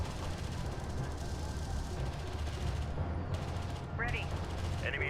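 In Homeworld: Deserts of Kharak, a turret comes under steady gunfire, a continuous dense crackle of shots over a low rumble, with a couple of brief electronic chirps near the end.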